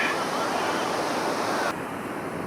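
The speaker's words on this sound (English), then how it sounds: "So much surf going by unridden now" Ocean surf pounds at Jeffreys Bay, a dense, steady roar of breaking waves up close, with wind buffeting the microphone and no clear talking.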